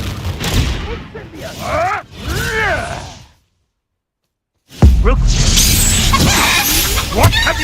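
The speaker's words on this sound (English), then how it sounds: "Confringo!" Fiery Confringo spell cast in the game Hogwarts Legacy, heard as loud bursts and whooshing blasts amid combat noise, broken by a brief silence before a sharp new impact and a dense crackling rush.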